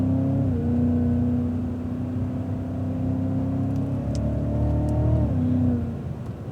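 A Cadillac CTS-V accelerates over a hill crest on a race track: a loud, steady engine drone whose pitch climbs, drops briefly at a shift, then climbs again, with no one talking.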